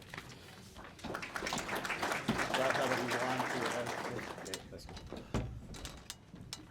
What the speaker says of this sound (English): I didn't expect a clap